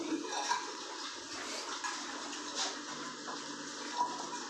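Running water rinses concrete slump test equipment at a ready-mix concrete site: a steady, moderate splashing flow that continues without pause throughout.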